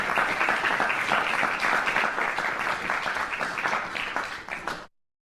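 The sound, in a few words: played applause sound effect in webinar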